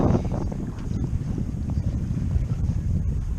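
Nova 28 sailboat moving through the Cavalli Islands, a steady broadband rush of wind and water against the hull, close and continuous with no talking.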